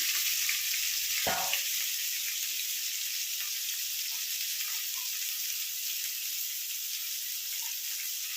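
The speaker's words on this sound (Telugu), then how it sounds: "తాలింపు అయితే కాలింది ఇప్పుడు ఆనియన్స్ వేసుకున్నాం పచ్చిమిర్చి పుదీనా కరివేపాకు వేసేస్తున్నాం" Onions, green chilies, mint and curry leaves frying in hot tempering oil for a beans and moong dal curry, a loud steady close sizzle with a brief low clunk near the start, no talk.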